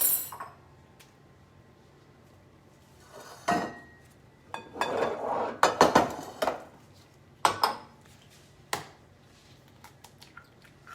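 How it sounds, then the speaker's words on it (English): Two large eggs are cracked and beaten in a bowl for meatloaf: sparse clinks and taps, then a busy stretch of wet squishing and whisking against the bowl, followed by a few scattered knocks in a quiet kitchen. "We're going to add 2 large beaten eggs"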